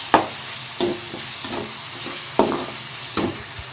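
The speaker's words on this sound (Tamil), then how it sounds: "நல்லா தக்காளியும் சுரக்காய் நல்லா வதங்குது" Tomatoes and bottle gourd sauté in a pan, with a steady soft hiss of frying under repeated scraping strokes of a spoon stirring the vegetables, close and fairly loud.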